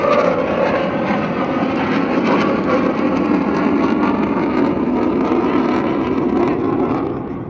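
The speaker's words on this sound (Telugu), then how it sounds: "ఈ విమానం కన్నా ముందు ఆ విమానం సౌండే వస్తుంది విమానం కూడా చాలా ఫాస్ట్ గా వస్తుంది" A jet aircraft at an airshow in Khobar, Saudi Arabia, roars past overhead, a loud, steady rushing engine noise that fills the whole clip and begins to fade at the end.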